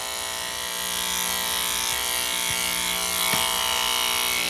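Electric clippers run steadily while shaving a Shih Tzu, giving a loud, close, constant mechanical buzz with a few faint taps and knocks as the blade moves through the coat.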